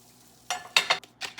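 Butter hits a hot 11-inch Cooker King stainless steel saute pan with the heat turned off, giving a few short, bright sizzling bursts close up, separated by brief near-silent gaps.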